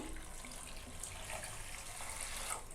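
Water pours in a continuous splashing stream into a cooking pot for sambar, close and steady, with no voices.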